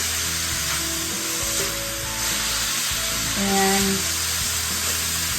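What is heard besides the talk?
food sizzling in olive oil in a pan, being stirred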